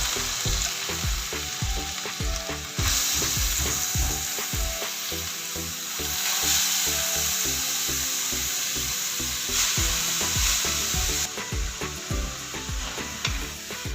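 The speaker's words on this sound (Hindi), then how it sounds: "अब हमारी गाजर आहिस्ता आहिस्ता फ्राई होनी शुरू हो गई है" Carrots frying in desi ghee with green cardamom for gajar ka halwa, a steady loud sizzle with repeated stirring scrapes and clinks running through the whole stretch, no voices.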